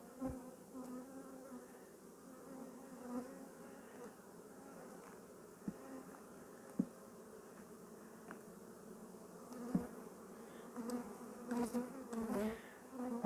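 Honeybees swarm around an open hive during an inspection, a soft, steady buzz close by with individual bees droning past now and then, no talking.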